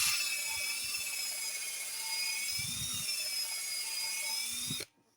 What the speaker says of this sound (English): I put this on my drill